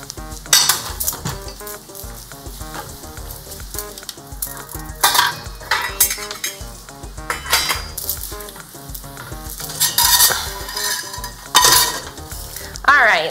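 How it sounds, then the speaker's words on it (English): Dishes, pots and cutlery clattering as they are cleared in a home kitchen during meal prep, with repeated clinks and scrapes close by over a steady frying sizzle. "Get rid of some of these dishes."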